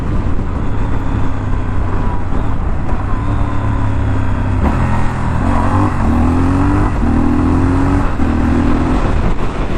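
A Triumph Scrambler 1200 motorcycle engine revs and pulls hard in first gear, its droning pitch climbing in repeated rising sweeps, loud and close amid rushing wind.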